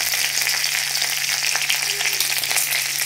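Mustard seeds, chana dal and urad dal fry in hot oil in a pan, giving a loud, steady sizzle and crackle close up that runs throughout, with no talk over it.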